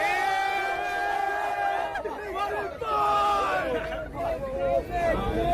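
Crowd of people clustered around an Amazon delivery truck, shouting and whooping in a loud, excited babble with a few sharper cries rising above it.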